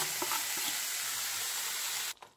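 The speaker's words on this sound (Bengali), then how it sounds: "এই যে দেখুন আদার গুড়ের কিন্তু আস্তে আস্তে করে জাল হচ্ছে" Grated and chopped ginger with jaggery cooking in a pan gives a close, steady sizzle with a few stirring scrapes, then cuts off abruptly near the end.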